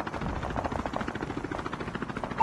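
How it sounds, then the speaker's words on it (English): Chopper gunner helicopter from Call of Duty Mobile, a steady rhythmic rotor thump with a whirring drone, moderately faint and heard alone for a few seconds. "Friendly deployed chopper gunner."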